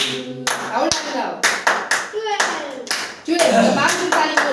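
Family members clap hands at a home birthday celebration, a series of sharp, close bursts of clapping broken by short pauses, with voices and someone talking between and under the claps.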